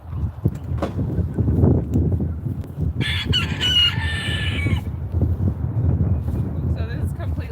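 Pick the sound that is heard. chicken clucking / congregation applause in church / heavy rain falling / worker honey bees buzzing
chicken clucking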